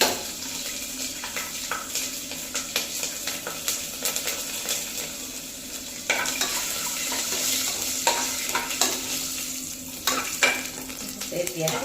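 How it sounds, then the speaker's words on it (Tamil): Two dried red chillies and two green chillies fry in hot oil in a pan, a continuous crackling sizzle punctuated by spoon stirs and clinks, with a hint of running water in the background. "இப்போ 2 வரமிளகாய், 2 பச்சை மிளகாய் சேர்த்துக்கலாம்."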